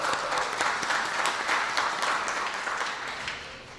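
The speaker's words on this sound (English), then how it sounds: "So please give them a round of applause." Applause from an audience at a community meeting held by the Texas Education Agency on the HISD takeover, a full steady patter of many hands clapping that tapers slightly at the end.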